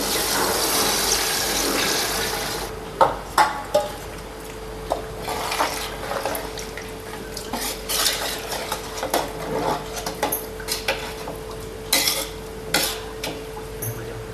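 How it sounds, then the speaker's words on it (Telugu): Water poured from glasses into a pot of rice for chicken biryani, a gushing, splashing pour followed by repeated clinks and stirring knocks against the pot, close and without talk. "ఇప్పుడు 5 గ్లాసులు రైస్కి నేను 10 గ్లాసులు వాటర్ వేసుకుంటున్నానండి."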